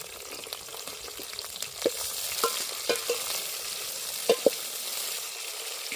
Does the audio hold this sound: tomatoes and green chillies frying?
yes